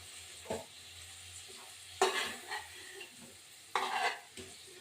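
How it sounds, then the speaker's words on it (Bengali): Potatoes frying in oil in a pan after prawns, a soft steady sizzle broken by a few sharp scrapes and clatters of a spoon stirring, close and fairly quiet, with no talk. "এবার আলুটা ভাজবো"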